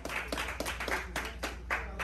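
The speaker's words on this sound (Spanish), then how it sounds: "Aplauso para Brian." A small group applauds a name called out at a tournament draw, a short burst of irregular hand claps, fairly close but modest in volume, over a low electrical hum.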